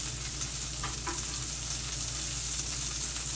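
Onions frying in a pan with leftover curry seasoning from chicken, a steady close hiss and crackle of sizzling oil that runs unbroken throughout.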